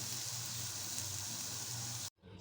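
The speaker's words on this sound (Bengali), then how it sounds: "এইদিকে চিংড়ি মাছগুলো আমি ভালো করে এপাশ ওপাশ করে নেড়ে দিচ্ছি" Shrimp sizzle steadily as they fry and are turned in a pan, a dense, even hiss running close and loud for about two seconds before it cuts out abruptly.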